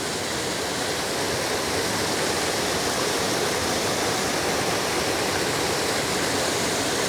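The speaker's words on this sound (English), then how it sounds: "I love these little instant waterfalls that happen when it rains." Rain-fed runoff spilling down a switchback hiking trail as small instant waterfalls makes a steady, close, broadband rush of splashing water, unbroken and even throughout with no voices.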